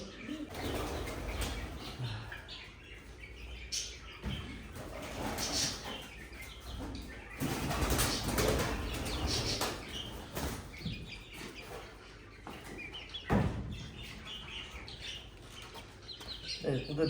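Female tumbler pigeon flapping its wings while being held, repeated bursts of fluttering and rustling with soft handling noise, fairly faint, with someone talking in between.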